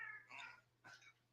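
A house cat meows twice in quick succession, a drawn-out call followed by a shorter one, close to the microphone against a low steady hum.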